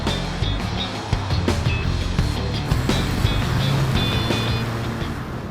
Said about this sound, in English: driving around in a Ferrari does make you feel bloody good